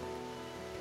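Steady rain falls in a rural setting in Garcitas, forming a dense, even wash of sound with faint tonal hum lines underneath and no talk.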